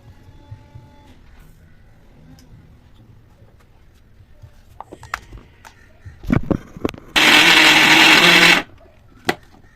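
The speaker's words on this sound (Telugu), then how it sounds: "మొత్తం మిక్సీ పట్టుకోండి" A kitchen mixer grinder blends ginger chutney with tamarind in a mixie jar, a loud whirring burst of about a second and a half after a few clicks and knocks, then a short final pulse.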